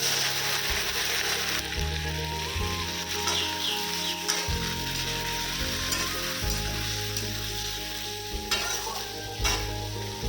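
Spices crackle and sizzle in hot oil up close, the tempering for a Malabar spinach dish, with a steady frying hiss and occasional stirring scrapes and clinks.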